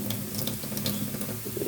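A cutting board and knife are rinsed under a running kitchen tap, a brief steady splash of water with light knocks and clatter of the items being washed, no talking.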